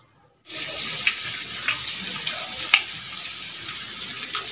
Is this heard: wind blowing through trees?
no